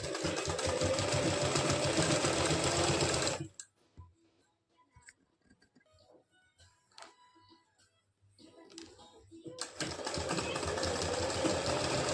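A sewing machine stitches palazzo pants in quick, close, rhythmic runs, loud at the start and end with a near-silent pause between them holding only faint handling clicks.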